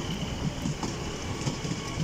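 Northern train passing through Darlington station, a soft, low rumble with faint rhythmic clicks of wheels over rail joints, distant and fairly quiet throughout.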